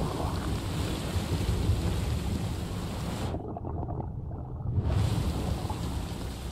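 Steady broadband hiss of rain in the VR game Subside, with a low rumbling undertone, continuous and fairly loud, briefly muffled midway before returning at full strength.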